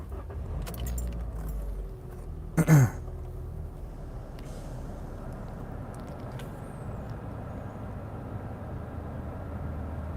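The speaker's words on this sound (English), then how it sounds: "let me turn on the car because it's getting a little hot" Keys jangle and a car engine turns over and starts, a brief loud burst of cranking followed by a steady low idle hum.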